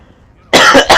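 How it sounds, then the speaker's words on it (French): Coughing from a man in a French improv session, two or three loud, close bursts following a quiet pause. "Excusez-moi pour cette toux"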